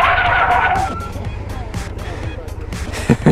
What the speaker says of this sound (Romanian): Hai să-ți arăt frâne.